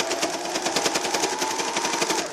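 A sewing machine stitches a towel hood in a fast, steady mechanical chatter of needle strokes with a humming motor underneath, close and continuous with no talking.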